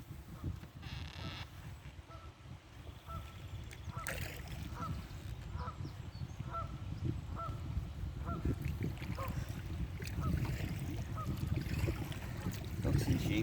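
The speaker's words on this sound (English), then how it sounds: "A few ducks, just a few." Ducks quacking and honking in a short series of calls, somewhat distant, over a steady rumble of rushing water from a swollen river and outdoor noise, on the River Wye.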